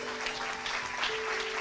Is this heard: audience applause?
yes